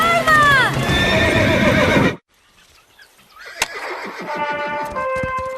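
A wild horse in a cartoon gives a loud, close whinny with galloping hooves, then drops out briefly before fainter hoofbeats and a rising whinny return.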